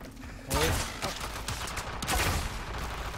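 Cernos bow shots from the Warframe video game: two sharp, close firing bursts about a second and a half apart, each trailing off, with faint game noise and a voice murmuring beneath.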